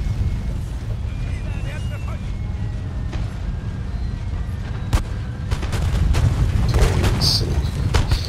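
Howitzer artillery in the Napoleonic-era strategy game Napoleon: Total War fires as heavy, distant booms over a constant low battle rumble, with a sharper report near the middle and denser fire toward the end.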